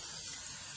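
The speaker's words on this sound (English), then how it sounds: "spray a little oil if you see some dry patches on the chicken" Oil sprays from a spray bottle onto chicken tenders in an air fryer tray, a short, close, continuous hiss with no voices.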